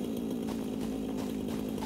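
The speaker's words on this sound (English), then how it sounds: "Don't know how you can pick up limestone with a chainsaw." Chainsaw from the video game Satisfactory cutting down trees, a steady, loud, continuous buzzing drone without a break, with no talking over it.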